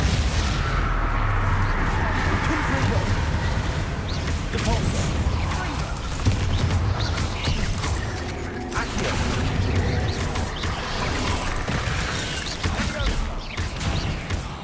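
Confringo spell blasts in the game Hogwarts Legacy, heard as repeated booming impacts in a dense, clattering combat mix with continuous rumble and a voice speaking over it.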